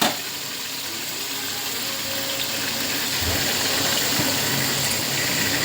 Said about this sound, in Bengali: চিকেনটা এবার ঢেলে দিচ্ছি